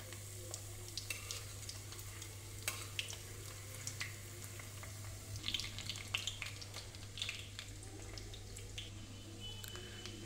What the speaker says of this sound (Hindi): दोनों तरफ से हमारा एग फ्राई हो चुका है